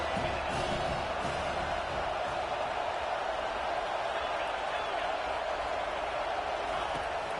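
A dense, roaring football stadium crowd at a Penn State versus Mississippi State bowl game cheers continuously and loudly, a steady wall of noise with talk faintly beneath.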